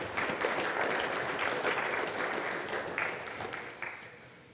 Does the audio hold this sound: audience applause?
yes